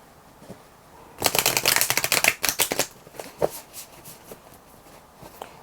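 A tarot card deck is shuffled up close, a rapid crisp riffle of flicking cards lasting about two seconds, followed by a few softer taps and shuffles.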